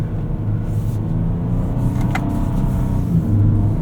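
A 2024 Ford Ranger Raptor on mud-terrain tires drives through snow, a steady low engine rumble with road and tire noise throughout, close and even, with no voices.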